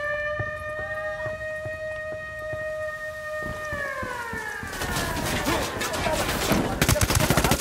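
Gunfire in Ghost Recon Wildlands: a steady siren-like tone slides downward as rapid shots start crackling, building into dense, loud bursts of fire.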